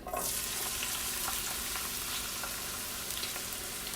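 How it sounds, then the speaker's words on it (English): Peppers sizzle and fry steadily in a hot pan for Southern dirty rice, a dense, continuous crackling hiss that stays loud and close throughout, with small pops and spatters scattered on top and no voices. "Okay, our pan is heated. We're going to get our peppers in."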